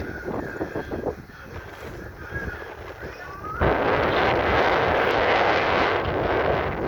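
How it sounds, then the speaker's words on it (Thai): Strong wind blows by Kwan Phayao lake in Thailand, with loud, roaring buffeting across the microphone that grows heavier and continuous partway through, under faint background sound and no clear talking. "ลมแรงมากครับวันนี้โอ้โหบรรยากาศ"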